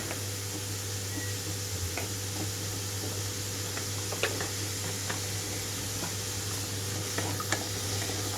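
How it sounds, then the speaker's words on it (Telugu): Beetroot pieces fry in a pan with a continuous close sizzle and hiss, punctuated by occasional light pops and spatters. "ముక్కంతా కూడా ఫ్రై అయిపోతుంది."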